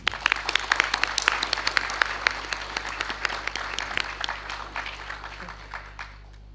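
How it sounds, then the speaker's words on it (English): An audience applauding after a speech at a university honor ceremony, a dense, loud wash of many hands clapping that holds steady and then fades out near the end. "please give him another big round of applause"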